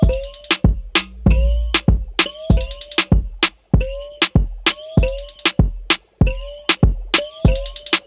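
Kick drum pulsing steadily in place of a metronome within an Afrobeats riddim production, loud and up front, layered with rhythmic percussion and sliding melodic synth tones in a repeating groove.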